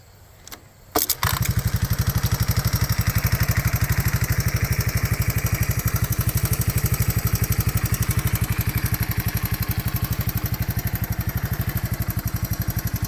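Honda 185S motorcycle with auto decompression, silent for about a second, then its small single-cylinder engine fires and settles into a steady, loud, close idle with a rapid even thump that holds without pause.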